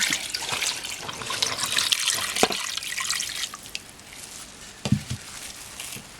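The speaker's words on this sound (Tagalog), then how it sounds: "lagyan natin ng tubig." Water splashes and pours into a cooking pot of chicken macaroni soup, a loud rushing that fades to quieter dribbles and a couple of sloshes near the end.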